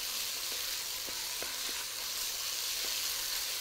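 Tomato paste sizzles steadily in a hot pan as it is stirred, a continuous close crackling hiss with a few faint scraping clicks from the spoon, no talking.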